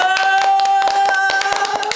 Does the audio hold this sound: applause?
yes